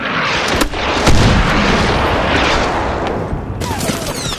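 M203 grenade launcher fire in Medal of Honor Warfighter, a heavy booming blast with rumbling explosion and scattered debris crackle, dense and loud throughout.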